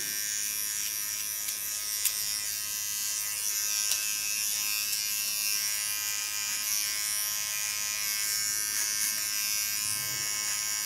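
An electric hair clipper buzzes steadily and close as it sharpens the contour line at the nape of a woman's neck during an asymmetric haircut, a constant high hum lasting about eleven seconds with no speech.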